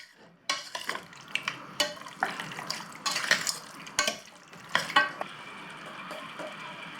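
Mutton cooks in ghee in a pan, a soft background sizzle broken by repeated rhythmic scrapes and clatters of a spoon stirring the meat against the metal, with no talking.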